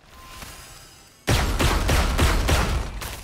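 The Mystbloom Judge shotgun in Valorant fires a rapid burst of about six blasts after a quiet lead-in. The reports are loud, evenly spaced and close, with a bright effect on the default sound.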